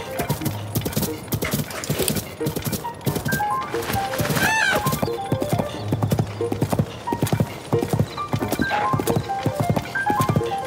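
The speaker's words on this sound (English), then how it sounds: "The bloody horse will go down this hill." Galloping horse in Zelda: Tears of the Kingdom, with a steady clip-clop of hooves running throughout and a short whinny partway through, under game music and ambience.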